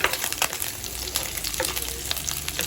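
Pork fat frying and browning in a pan, a steady crackling sizzle with scattered sharp pops and spits running throughout.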